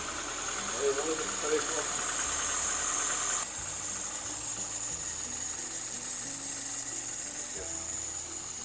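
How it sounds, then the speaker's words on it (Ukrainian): A VAZ 2109 engine, just repaired after a burnt valve, idles without the choke in a steady, quiet, even hum that holds close and unchanging throughout. "на холостому ходу вже без підсосу"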